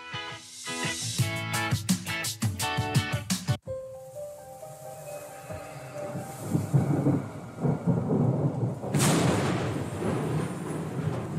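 A thunderstorm with rain plays as a sound effect on a radio broadcast, entering after a brief musical sting: a sharp crack followed by rolling rumbles and a steady hiss of rain, loud and continuous with no talk.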